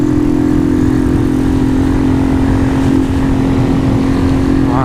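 150cc motorcycle engine with a strange noise, a loud steady drone of constant revs heard close up while riding, with wind rush over it.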